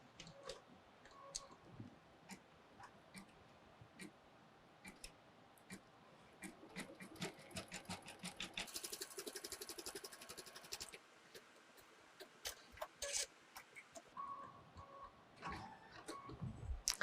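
Computerized embroidery machine stitching a placement outline for an appliqué gnome, producing soft rapid ticking and clicking that builds to a denser, louder stretch midway, then eases back to sparse ticks with faint background noise.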